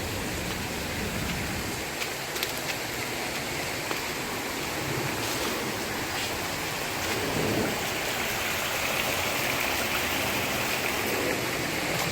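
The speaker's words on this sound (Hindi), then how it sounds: "छोटा सा झरना है" A small waterfall spills into a memorial water pool at an ashram in Miami, making a steady, continuous splash and hiss of falling water close by, with no talk over it.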